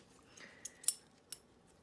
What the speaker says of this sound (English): We're going to take our scissors and we're going to cut to 1/4 of an inch away from our stitch line.